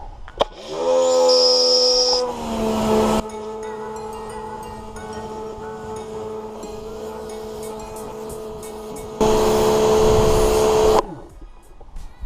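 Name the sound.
water rinse spraying a Ford Ranger Wildtrak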